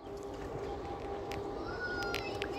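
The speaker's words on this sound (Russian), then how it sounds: "Это шумят охладители, там вентиляторы." Cooling units with running fans give off a steady, unbroken hum and broadband whir, moderately loud and close, with no talking over it.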